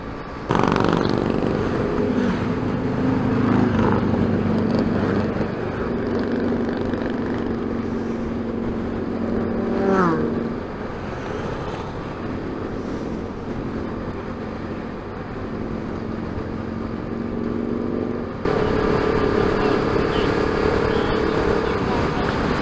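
Motorcycles loaded with luggage rumble past near a ferry on Scotland's NC500 route, engine drones swelling and fading one after another at close to middle distance, with wind noise and a few voices mixed in.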